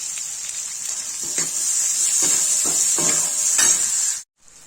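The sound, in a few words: tinda (round gourd) frying with coconut in pan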